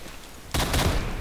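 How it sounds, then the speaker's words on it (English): A machine gun in Roblox Phantom Forces opens up after a half-second lull, a loud, rapid burst of shots continuing to the end. "I have a machine gun now."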